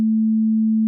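A pure sine-like synthesizer tone from a patch-cable setup in Synth VR, held steady and unbroken at a single low-mid pitch for under a second, clean and alone.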